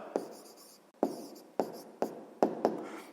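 Handwriting an answer for a sixth-grade maths exercise, a pen scratching on paper in about six short, distinct strokes, close and fairly quiet, with brief pauses between them.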